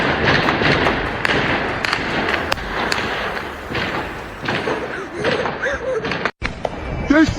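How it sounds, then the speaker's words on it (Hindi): Sharp gunshots ring out repeatedly and irregularly, government forces firing on protesters, some close and loud, amid shouting and crowd noise. "They're shooting us! This government shooting people!"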